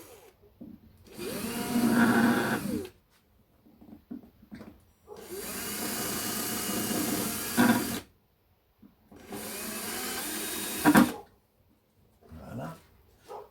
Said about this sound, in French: un petit coup de foreuse